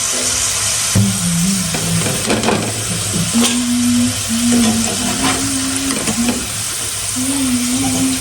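Soybeans (bhatmas) fry in hot oil with a steady, loud sizzle and scattered crackles throughout, while a faint tonal hum runs beneath.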